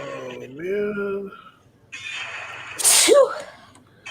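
A single sharp sneeze follows a short stretch of speech, close and abrupt, during a Valheim gaming session.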